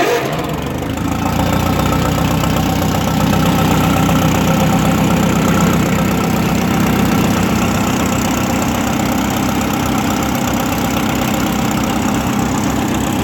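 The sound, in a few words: Cockshutt 30 tractor engine idling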